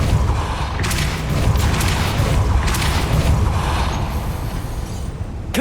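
Depulso spell cast repeatedly in Hogwarts Legacy: a series of loud, dense bursts and whooshing impacts over a continuous rumbling bed, with sharp bright flares recurring throughout.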